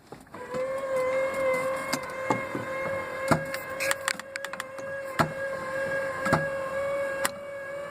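The foot-pedal steering linkage of a homemade walking mech moves under power. A steady, loud whine with a whirring tone runs throughout, broken by repeated sharp mechanical clicks and knocks from the joints.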